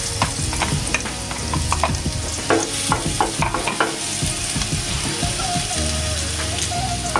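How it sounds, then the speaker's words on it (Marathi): Coarsely ground green chilies fry in ghee while being stirred, a dense close sizzle with rhythmic scraping and clinking of the spoon against the pan, no speech. "तुपामध्ये आता फ्राय करूया जरा।"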